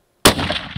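A single sharp rifle gunshot on a South African hunting safari cracks out loudly after a moment of silence, then rolls away in a long open-air echo.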